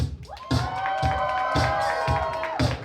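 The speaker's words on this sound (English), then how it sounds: "I need you guys to yell, scream, clap, make as much noise as you can in here." Wedding reception guests cheer, whoop and clap together, a loud burst of crowd noise with sustained shouting and rhythmic claps in a banquet hall.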